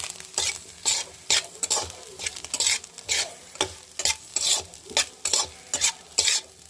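A dish sizzling in a little oil in a pan, seasoned with chili and spice powder, stirred with steady, rhythmic spatula scrapes about twice a second over a continuous crackling fry, close and alone.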